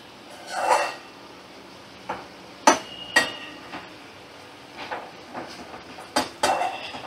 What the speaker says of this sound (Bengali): এবার আমি নামিয়ে নেব কড়া থেকে।